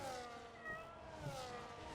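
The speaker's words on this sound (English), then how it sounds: "Meanwhile, my cat is trying to sit in my lap." A cat gives a faint, drawn-out meow against a steady background hum of racing car engines from a Monza race, quiet and distant with no talking.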